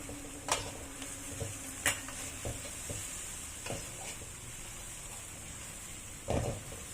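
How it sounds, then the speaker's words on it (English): Sardine gravy stirred in a pan, faint scraping and a few sharp clinks of a utensil against the pan over a soft, steady background hiss. "And I'm going to start stirring again."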